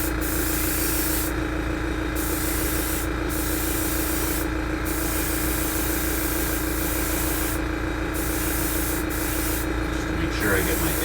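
A spray gun or airbrush lays a preliminary coat of paint on a 1/72 scale B-2A stealth bomber model, a loud steady hiss broken by brief pauses between passes, close up and without speech.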